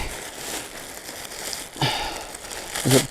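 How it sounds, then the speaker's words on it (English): A plastic store bag crinkles and rustles in short bursts, close to the microphone, with a louder crackling handful near the end. "just a plastic bag from the local store"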